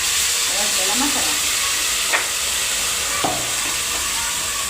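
Garlic, curry leaves and ground masala sizzle and hiss steadily in a hot pan, with a few sharp clinks of a spoon stirring against the metal.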